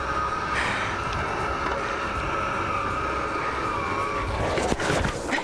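Potash train ride rolling through an amusement park playland, a steady mechanical rumble with a sustained whistle-like tone and a brief rattling burst near the end.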